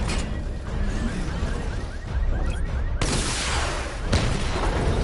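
A missile barrage fires in Batman: Arkham Knight, a dense, continuous roar of launches and booming blasts, loud throughout, with a fresh surge partway through and another near the end.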